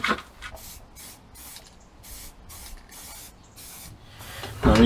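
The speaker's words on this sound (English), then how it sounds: "I'm using a hammered type finish paint, partly because it's a lot thicker and gives a lot better coverage" Hammered-finish paint sprayed from an aerosol can onto dummy brake drums for a cyclekart, a series of short hissing bursts with brief gaps, fairly close, ending in a louder clatter.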